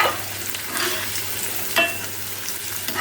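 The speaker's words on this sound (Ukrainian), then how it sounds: "Морква з цибулькою, коли в хаті смажиться, це вже смачно." Steady sizzling and crackling of carrots and onions frying in a pan, with occasional stirring scrapes and clinks, close and moderately quiet.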